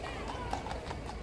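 Police horses walk along a city street during a Bristol protest, their hooves ringing in a quick, uneven clip-clop over steady crowd noise and voices.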